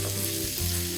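Chicken pieces with turmeric and spices sizzling steadily in a hot pan while being stirred, a close, continuous frying hiss with no talk.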